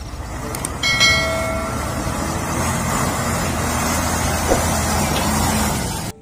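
A passing truck or train rumbles steadily through a busy roadside, with broadband road noise throughout and no distinct tanker detail; traffic noise continues loud and close, ending abruptly.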